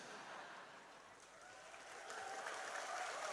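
Audience applause at an outdoor religious lecture gathering, a dense wash of clapping that swells slightly toward the end, moderately distant and fairly soft.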